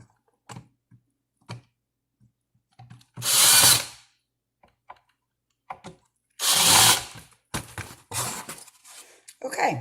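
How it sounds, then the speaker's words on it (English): Power screwdriver driving screws into a ceiling fan during restoration, two loud whirring bursts of about a second each with short pauses between, surrounded by light handling clicks and taps. "then I'll take my power screwdriver"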